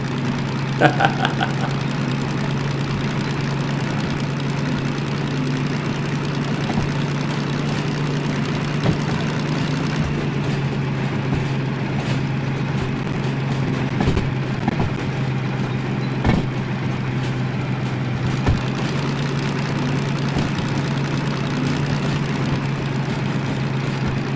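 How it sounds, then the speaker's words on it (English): Steady low engine drone from locomotives in Derail Valley, a steam and a diesel engine running in a rail yard, a constant hum with faint occasional clanks throughout, no talking. "Oh, Bill, I could swear I just heard a steam engine."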